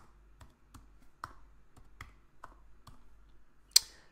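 A computer mouse clicks about nine times at a fairly even pace, each click quiet and close, ending with one sharper, louder click.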